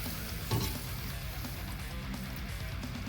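Sauce of peppers, onion, garlic, salt and pepper starting to cook in a pan for mozzarella-stuffed meatballs and pasta, a steady close sizzle with a light stirring clatter, no talking.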